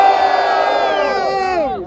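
A crowd at a rap battle cheers and shouts loudly in a dense swell of voices that fades near the end.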